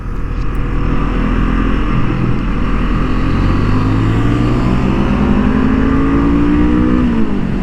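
A 2023 Honda CL 500 motorcycle on a racing track, its engine loud and close, revving high with rising and falling pitch as the rider shifts quickly through the gears under steady wind roar.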